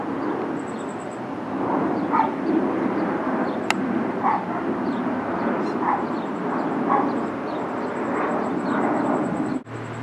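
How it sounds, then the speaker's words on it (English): An airliner flies low over Phoenix, Arizona, during a monsoon dust storm (haboob), giving a steady, broad roar that holds for the whole stretch with no talk. "Oh, look at that airplane trying to escape it."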